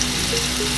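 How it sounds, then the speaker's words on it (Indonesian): Hot olive oil sizzling steadily while sushi filling grills in a pan, a close, even hiss heard alone for a brief moment. "Part paling bikin aku happy ketika masak adalah suara minyak panas ketika ngegrill sesuatu."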